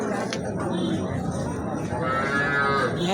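Cattle at a cattle market in Habiganj moo, with a long low call rising toward the end, heard close over continuous crowd chatter and people talking nearby.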